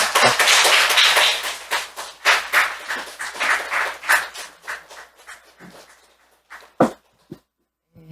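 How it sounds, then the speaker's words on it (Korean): Applause from an audience welcoming a speaker at a prayer gathering, a burst of clapping that thins out into scattered claps and then a few isolated ones near the end. "큰 박수로 맞이해 주십시오."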